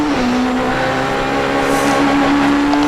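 Onboard a rally car on a fast special stage with two tunnels in Calheta, Madeira, 2008, the engine holds a loud steady drone with slight pitch shifts and road roar.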